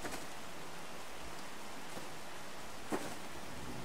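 Steady rain falls in a video game scene, a soft, even wash of hiss that holds for the whole stretch, with one brief brighter patter near the end and no voices.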